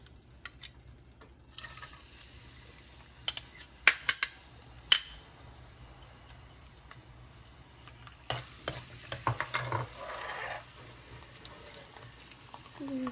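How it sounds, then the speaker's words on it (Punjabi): Garlic and green garlic shoots drop into hot oil for a Punjabi tadka, giving a faint sizzle punctuated by sharp clinks of utensil against pan, with busier stirring toward the end. "ਆਪਣਾ ਗਰਮ ਹੋ ਚੁੱਕਾ ਹੈ, ਹੁਣ ਆਪਾਂ ਇਹਦੇ ਵਿੱਚ ਲਸਣ ਪਾ ਦਿੰਦੇ ਹਾਂ"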